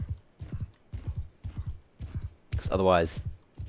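Horse hooves in Mount & Blade II: Bannerlord, a steady clip-clop gait pounding close and loud over roughly three seconds, ending in a burst of battle noise while someone talks.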